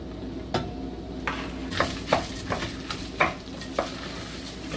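Butter sizzling in a cooking pan while being stirred, a steady frying hiss with several sharp scraping strokes of the utensil spaced through the stretch.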